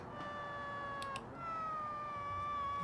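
A car engine in the Automation video game, backing off power, gives off high, wavering whines that sound like a cat's meow. The tones slide steadily over a low rumble, with a brief break in the middle.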